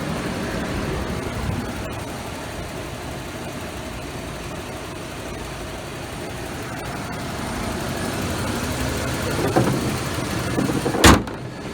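A 1995 Ford F150 pickup treated with Seafoam drives down the road, a steady broadband engine and road rumble throughout, with a brief sharp clunk near the end.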